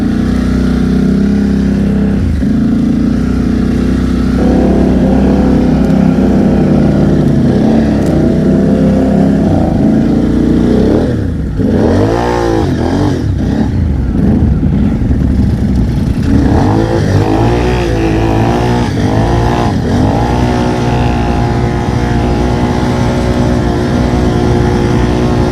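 Can-Am and Polaris off-road vehicles rip across rough terrain with loud, continuous engine roar, revving up and down through repeated throttle surges, close and dominant for the whole stretch.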